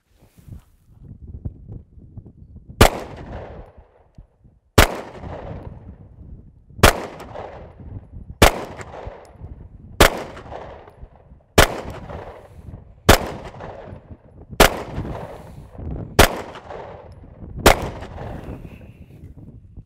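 A Sig Sauer P320 pistol fires Sig hollow point rounds outdoors, ten sharp, loud shots spaced about one and a half to two seconds apart, with light wind noise between them.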